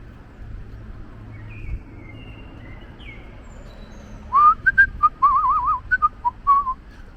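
A person whistles a quick run of chirpy, warbling notes imitating birdsong outdoors on a summer street walk in Stockholm's Vasastaden, loud and close after a few quiet seconds of ambient city hush.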